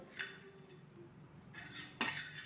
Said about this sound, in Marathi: आपण हे सर्व मसाले टाकून भाजून घेऊया